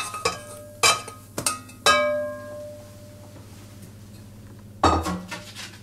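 Choux pastry dough is scraped from a pan into a dish, with several loud ringing clangs of metal utensil on cookware spaced across the moment, then a pause and a final clatter.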